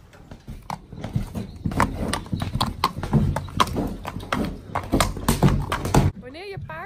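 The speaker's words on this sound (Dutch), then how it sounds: "Wanneer je paard voor de eerste keer crosskappen aan heeft en loopt alsof die... de grootste stappen van de wereld moet zetten." A horse walks with high, exaggerated steps while wearing cross-country boots for the first time, its hooves giving a steady, close clip-clop. Voices can be heard in the background.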